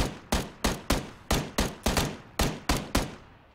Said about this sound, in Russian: По-любому стреляли, слышал прям выстрелы.